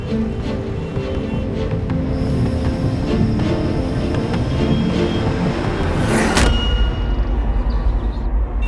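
A car being driven gives a steady low engine rumble and road noise, with a brief whooshing swell near the end.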